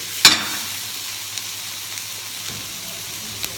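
Bacon frying in hot oil for a pea and bacon carbonara gives a steady soft sizzle, with a sharp crackling spit near the start and a few faint pops after it.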